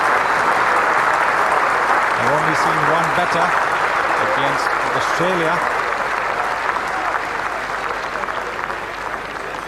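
A cricket crowd and the Indian team applaud Kapil Dev's Test century against South Africa, sustained clapping and cheering from the stands that rolls on throughout while a commentator speaks over it.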